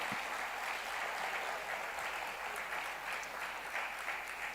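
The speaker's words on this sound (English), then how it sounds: "Can we have a huge round of applause for our speakers, our professors, for their session, for their presentation." Even, steady applause from a summit audience for speakers and professors, heard somewhat distant and soft but continuous throughout.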